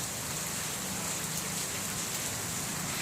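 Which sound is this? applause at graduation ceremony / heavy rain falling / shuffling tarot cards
heavy rain falling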